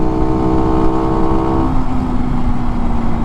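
A 2015 Skyteam Skymax 125 monkey bike engine held at full throttle on a road, a loud, steady droning buzz with a slight shift in pitch partway through, close up and continuous.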